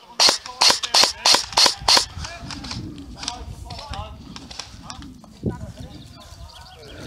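A toy gun fires six quick, sharp cracks in a steady rhythm, close and loud, followed by scattered clicks and rustling while people talk in the background.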